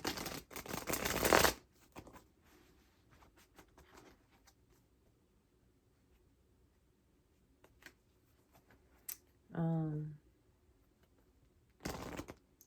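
A deck of cards is riffled and shuffled in a quiet room, a loud burst of rapid crackling at the start and another brief shuffle at the end, with a short tonal sound in between.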